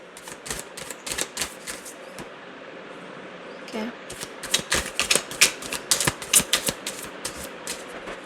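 A deck of tarot cards shuffled by hand, giving a close run of crisp, rapid flicks and riffles in uneven bursts that grow busier toward the end, over a faint background hum.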